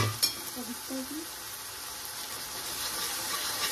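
Tomato and onion frying and being stirred in a pan for fish gravy, a steady soft sizzle with a brief clatter at the start and a few faint voice-like tones early on.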